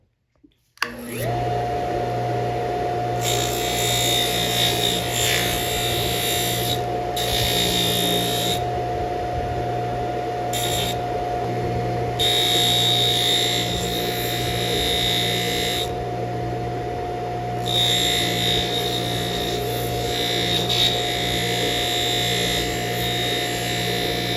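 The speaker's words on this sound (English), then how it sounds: "We've got our buffer here. We're going to use some polishing compound, see if we can't clean these things up some more." A buffer wheel spins steadily while polishing compound is worked onto old rusty pliers, a loud, even motor whine with a pitched hum and shifting hiss as the workpiece is pressed on and off.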